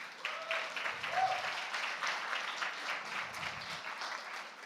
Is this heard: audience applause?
yes